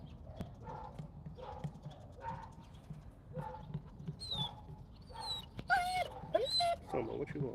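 A big dog whimpers in a few high, rising whines near the end, close and fairly loud, following a string of light tapping footsteps while a person talks.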